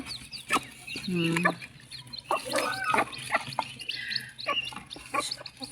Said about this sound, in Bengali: এখন আদার খাচ্ছে মুরগিগুলা